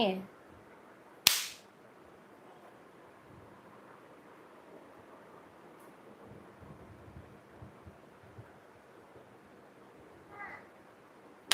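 A single sharp firecracker pop rings out early, then quiet background murmur, with another brief crack at the very end.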